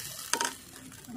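Chopped tomatoes tipped into a chicken curry pan with whole garlic, onion and small potatoes, a short burst of sizzling and a soft clatter, then a quieter hiss, close by.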